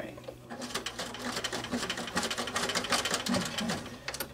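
Sewing machine stitching a leather earbud pouch, a short run of rapid, even needle clatter at moderate distance, fairly quiet, with no voices.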